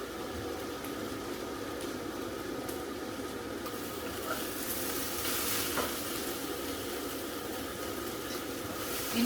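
Tofu and onions frying in a pan beside cooked tilapia, giving a steady, dense sizzle and crackle that carries on without a break, with light stirring and scraping noises over it.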